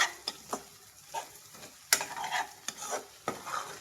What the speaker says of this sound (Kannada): ಮೊಟ್ಟೆ ಹುಡಿ ಆಗೋವರೆಗೂ ನಾವು ಫ್ರೈ ಮಾಡಬೇಕು